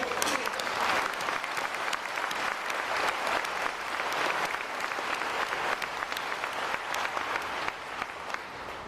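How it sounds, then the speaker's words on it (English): Sustained applause from a university graduation audience at Dakota State, a dense, steady clapping that fills the whole stretch evenly at moderate loudness with no talk over it. "Let's have a round of applause for all of you."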